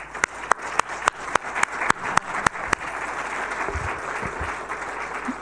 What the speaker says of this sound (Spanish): el agradecimiento inicialmente es con un aplauso que te vamos a dar.